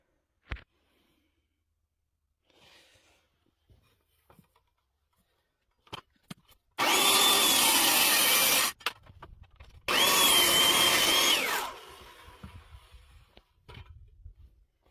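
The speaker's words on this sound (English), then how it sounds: "I'm going to run the circular saw on top of that shim to give me the taper that" Circular saw cutting a tapered tenon on a log, riding on a shim: two loud bursts of cutting separated by a short pause, with scattered knocks and handling sounds before and after.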